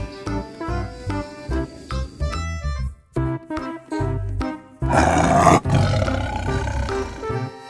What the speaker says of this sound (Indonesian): Wow, ini ada harimau.